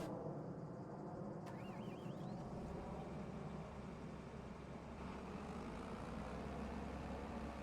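Tractor engine idling in the Farming Simulator 25 video game: a steady low rumble holds throughout, fairly faint, with a brief high warbling tone near the start and no voices.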